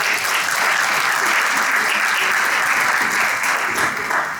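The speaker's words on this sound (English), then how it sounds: "Give them a big round of applause." Sustained audience applause at a live real estate and investment talk about living in Greece, steady and dense for the whole stretch, fairly loud with no speech over it.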